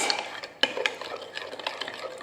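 A spoon clinks and scrapes against a bowl while vinegar, sugar and salt are stirred together, giving quick, light, close-up taps and swirling scrapes.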